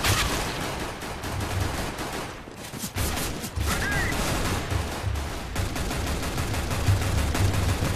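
Gunfire in the Counter-Strike video game, sustained rapid shots and bursts over game ambience, loud and fairly steady with a short lull partway through.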